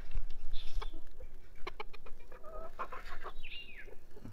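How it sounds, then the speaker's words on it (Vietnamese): Bantam chickens cluck in a series of short, close calls over a steady background murmur, with a few louder squawks near the end; no one speaks. "Đây, bạn xem gà tre của mình."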